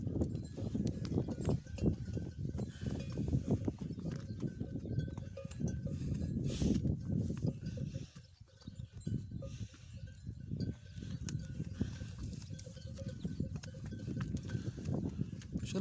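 Goats and sheep shuffle and stir in a pen at night in the cold, huddled together, with soft bleats, rustling and faint clinking, fairly quiet and continuous throughout.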